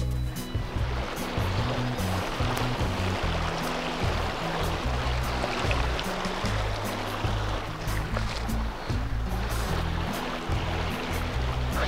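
A river in Ecuador rushes past in a steady, broadband flow of water, loud and close throughout with low rumbling underneath, and no voices.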